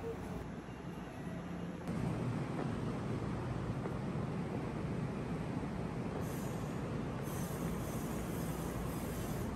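A train pulling out of Kyoto Station bound for Yamato-Saidaiji gives a steady, close rolling rumble that grows slightly louder after a couple of seconds and continues throughout.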